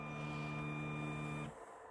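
Elegoo Neptune 2 3D printer homing, its stepper motors giving a loud, steady tonal hum up close that stops abruptly partway through, leaving quiet background.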